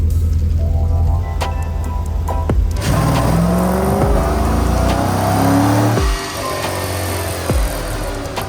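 An LS-swapped 1974 Corvette Stingray C3 on a long road run: a loud, close V8 engine drone that rises and falls through gear changes, with steady road and wind noise underneath.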